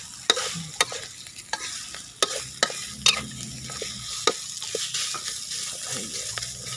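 A spicy eel stir-fry with fingerroot is stirred in a hot pan, with irregular scraping and clinking strokes of the utensil over a steady sizzle.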